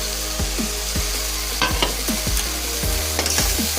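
Tomatoes frying in a pan for crab curry while being stirred, a steady close sizzle broken by repeated scraping strokes of a spoon against the pan at an uneven rhythm.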